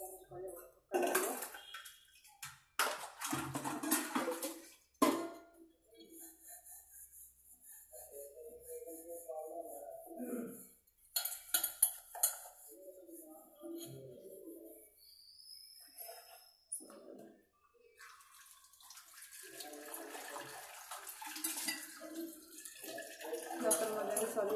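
Dishes and utensils washed at a home kitchen sink, with running tap water and clinking of pots and pans coming in bursts between stretches of quiet, someone talking at times.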